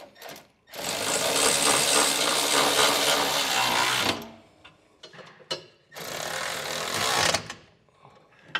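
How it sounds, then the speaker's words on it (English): Power impact tool tightening hitch bolts and nuts in a cross pattern on an underbed mount for a B and W Companion 5th wheel hitch on a 2022 truck, two loud sustained buzzing bursts with softer clatter between. "you're gonna have to put a wrench on the back side as you tighten down the nut side"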